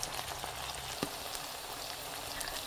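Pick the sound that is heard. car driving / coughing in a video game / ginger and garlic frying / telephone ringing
ginger and garlic frying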